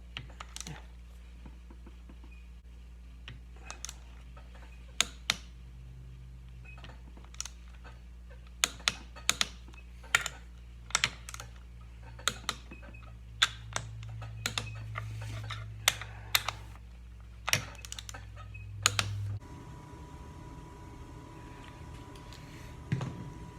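Torque wrench clicking while timing cover bolts are tightened on a Perkins 152 engine, a long run of sharp, irregular clicks over a steady low hum, close and fairly loud, with the hum changing near the end.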